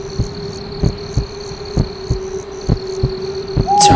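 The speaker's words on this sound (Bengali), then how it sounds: "নিজের হৃৎপিণ্ড ধুকপুকানির শব্দ" A heartbeat sound effect in a horror audio story thumps in slow, regular beats, close and alone over a faint hum, ending with a brief bright tone.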